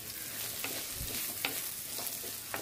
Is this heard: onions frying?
yes